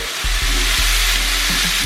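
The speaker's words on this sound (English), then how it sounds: "Listen to that sizzle." Loud, steady frying sizzle of butter and shrimp in a pan, a broad crackling hiss punctuated by a few sharp pops and spits, heard up close with no talking.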